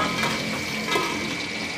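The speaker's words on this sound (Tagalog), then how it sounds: "nagpiprito ako ng pork para sa apo ko. Medyo lumayo-layo tayo kasi tumatalsik siya" Pork fries in a pan with hot oil spattering, giving a steady close sizzle with faint crackles throughout.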